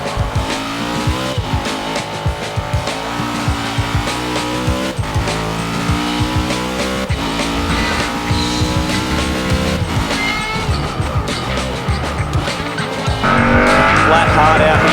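An HRT Holden race car laps Bathurst in the video game Forza Motorsport 6, its engine roaring steadily through gear changes with tire squeal, under continuous talk, and growing louder near the end.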